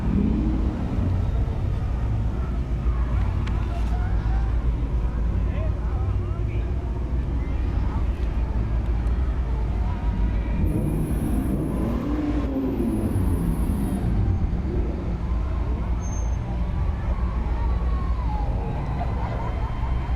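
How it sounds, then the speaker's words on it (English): Customized and home-built trucks from the Skynet truck team roll past in a 2021 Veterans Day parade, their engines a steady, loud rumble with a brief siren-like tone partway through. "Approaching now is a Skynet truck team."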